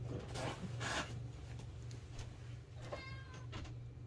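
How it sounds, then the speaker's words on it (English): A house cat meows once, fairly faint and close, near the end of a quiet indoor moment, over a steady low hum and a few soft rubbing noises. "I gotta let the cat out of the room."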